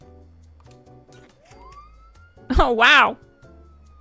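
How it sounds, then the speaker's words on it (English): A police siren wall light in the video game Fallout 76 lets out a thin, rising wail that holds steady while a person exclaims in surprise over it. "It actually makes a police siren."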